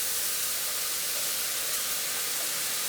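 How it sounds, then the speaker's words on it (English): Jalapeno, tomato and onion sizzle in a saute pan, giving a steady, bright hiss that stays even and fairly loud throughout, with no talking. "we're just going to put this into the saute pan."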